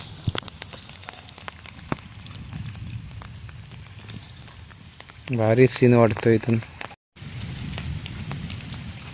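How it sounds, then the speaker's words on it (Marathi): Light leftover rain and water dripping from trees patter steadily after a heavy Konkan downpour, a soft crackling wash throughout, while someone speaks briefly in the middle. "थोडा थोडाच पडतो आहे म्हणजे झाडावरचं जे पाणी उरलेलं पडतं आहे"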